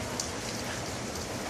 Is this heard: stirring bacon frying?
no